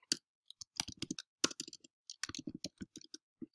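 Typing on a computer keyboard, irregular bursts of sharp close clicks with short pauses between groups of keystrokes, quiet and alone.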